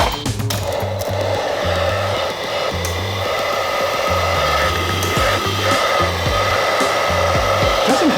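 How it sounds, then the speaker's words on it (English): A shop vac switched to reverse so it blows air instead of sucking, giving a loud, steady rushing whoosh with a low motor drone that holds unbroken from start to end. "Oh, it turned it into a vacuum. It's a shop vac."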